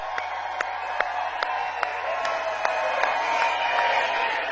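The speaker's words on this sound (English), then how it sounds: "J.D. Vance ends his speech by clapping for himself" Applause from a crowd at a J.D. Vance campaign speech in Henderson, steady clapping with a few sharper distinct claps standing out, moderately loud and continuous.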